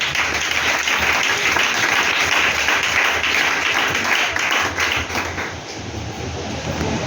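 Sustained applause fills a church congregation during a French-language service, a dense, steady roar of many hands clapping that stays loud throughout and eases slightly near the end.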